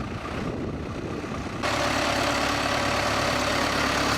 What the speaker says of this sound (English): Backing up the trailer to get it in line with the first plough.